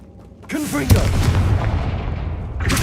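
A Confringo explosion spell goes off in Hogwarts Legacy, a loud booming blast that rolls into a long rumbling roar, with a voiced call rising briefly just before the hit.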